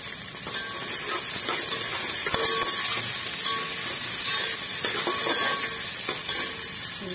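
Green peas hitting a hot pan for veg fried rice, setting off a loud, close, continuous sizzle with a hissing steam layer and light stirring clatter throughout.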